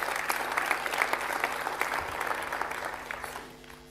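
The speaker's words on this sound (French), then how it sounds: "Maintenant, vous pouvez les applaudir" Audience applause at a municipal New Year's greetings ceremony, moderate steady clapping from a crowd that tapers off near the end.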